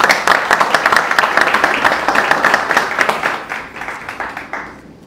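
Audience applause after a speaker's introduction at an evening talk, a dense round of clapping from a seated crowd that fades out over the last second or so.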